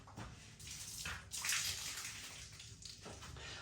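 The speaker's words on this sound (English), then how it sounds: "Pour some away." Beer poured away down a drain, a steady splashing gush of liquid with a brief louder surge midway, close and moderately quiet, no talking.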